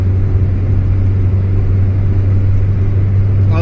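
An Austin Allegro's engine drones loudly and steadily while accelerating, heard from inside the car as a constant low hum without speech.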